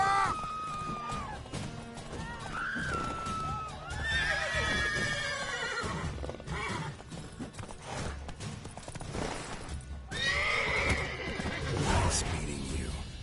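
Horses in The Witcher 3 video game whinny and neigh repeatedly over hoof clops and scuffling, with a loud whinny near the start and others around four and eleven seconds, set against game ambience and movement noise.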